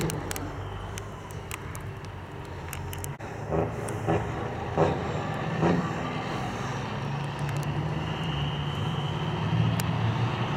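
Outlaw class semi trucks in a final-round drag race at the All Truck Nationals, Cecil County, heavy engines roaring steadily, with louder surges building across the run.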